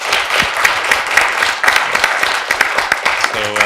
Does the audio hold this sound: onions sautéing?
no